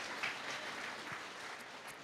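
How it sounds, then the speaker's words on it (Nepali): A church congregation claps together in thanks to the Lord, a faint, steady wash of hands throughout with no voices. "ताली बजाएर प्रभुलाई धन्यवाद भनौँ"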